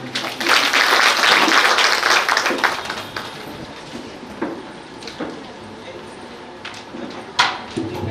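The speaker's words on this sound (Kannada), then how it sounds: "ಚಪ್ಪಾಳೆ ತಟ್ಟಿ ಅನುಮೋದಿಸಬೇಕು ವಿನಂತಿ." An audience bursts into applause, a dense burst of clapping for about three seconds that thins into scattered claps and knocks, with people talking over it in a hall.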